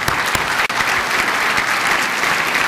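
An audience at an automotive advertising awards ceremony at the 2007 New York Auto Show claps for the finalists in loud, dense, sustained applause filling the hall.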